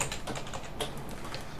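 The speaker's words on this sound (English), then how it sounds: "I can type something to test it out." Quick, light key taps on a computer keyboard go in a steady patter, close and faint, with no talk.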